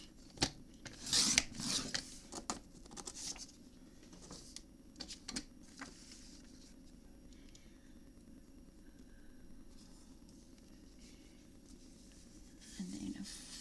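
Scissors cutting paper for a handmade memory book: brief snips and rustles clustered near the start, then scattered soft scrapes and handling noises over a quiet room, close and fairly faint.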